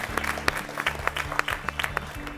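Audience at a school quiz grand finale clapping for a team, scattered individual claps over a low steady hum, moderately quiet and uneven.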